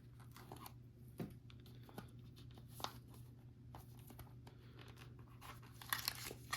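Pull tabs on an Apple Watch Series 7 box being torn open, producing faint, scattered paper ripping and crinkling sounds close to the mic with a steady low hum underneath.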